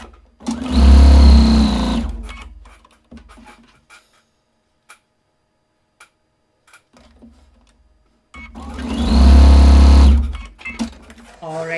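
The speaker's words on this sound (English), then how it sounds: "now it is just time to sew our block rows together" A sewing machine stitches quilt block rows together in two loud, close bursts of rapid running, separated by a quiet stretch with faint handling clicks.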